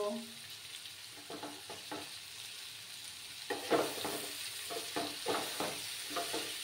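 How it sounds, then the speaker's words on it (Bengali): Egg and mixed vegetables sizzle in a frying pan, with soft rhythmic scraping bursts from stirring that grow denser in the second half, close and moderately quiet with no talk. "সমস্ত সবজির সঙ্গে ডিমটাকে মিক্স করে নিলাম।"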